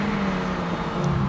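A Lamborghini engine accelerates hard in a drag race, a steady low drone with a faint rising whine, continuous and fairly loud throughout with no talk.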